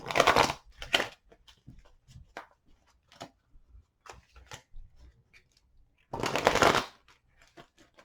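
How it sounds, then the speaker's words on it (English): A deck of glossy tarot cards is shuffled twice, with a loud riffle at the start and another near the end, and soft card handling and taps in between. "I'm going to give it 4 shuffles"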